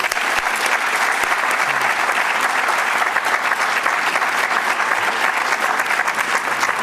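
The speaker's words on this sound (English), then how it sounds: "Let's have a final applause for our wonderful guests." A final round of applause for the guests at an evening public forum on political polarization with historian Richard Norton Smith: loud, dense and continuous clapping from a large audience, holding steady throughout.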